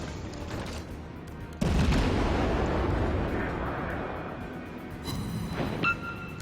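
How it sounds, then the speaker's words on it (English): Naval artillery from the battleship-hunting Erie in World of Warships booms out in a sudden heavy blast, then keeps rumbling as dense, continuous gunfire roars up close, loud and without pause. "So you're pounding away this battleship who's rushing me for all he's worth"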